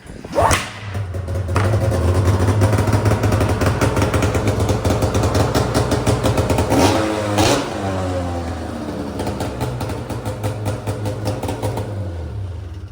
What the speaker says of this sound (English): one pull fires up